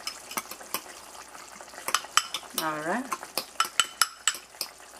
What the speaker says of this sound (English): So I'm going to add my flour. I'm just going to mix this.